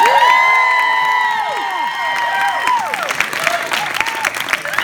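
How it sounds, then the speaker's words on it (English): A film Q&A audience cheers with loud whoops and shouts that slide up and down, then breaks into clapping mixed with scattered cheers. "clap if you've now seen this film 3 or more times"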